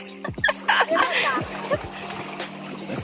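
Water splashing and sloshing as someone wades through knee-deep water in a village while bringing cattle home from the fields, with a voice and other voices talking over the sound.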